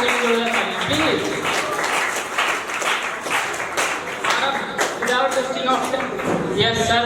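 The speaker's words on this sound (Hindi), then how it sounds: "जोरदार तालियों के साथ फिर से एक बार शिक्षकों के लिए जोरदार तालियां प्लीज।" Audience applause for teachers at a Teacher's Day celebration at a college of commerce, arts and science: steady, dense clapping from a crowd with voices talking over it throughout.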